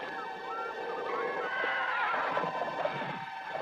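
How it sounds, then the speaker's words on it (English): Ghostly horse neighing, a loud drawn-out whinny with a trembling, wavering pitch that carries on continuously over a hollow, eerie backdrop for several seconds. "Some hear the sounds of ghostly horses hurtling up the stone stairs of a castle."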